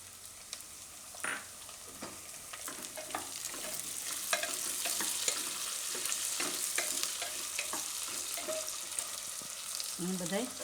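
Khichdi with onion frying in oil in a home kitchen pan, a steady soft sizzle with scattered stirring scrapes and clinks throughout.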